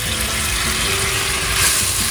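Coconut water pours steadily into a cooking pot on a lit stove for a curry noodle dish, a continuous loud splashing rush with no voices.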